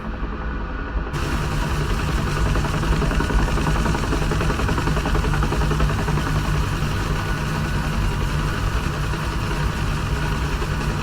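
UH-1H Huey helicopter engine and rotor in DCS World, a loud, dense, steady rumbling drone with constant low throb that holds unbroken for the whole stretch after a brief quieter start, with no talk.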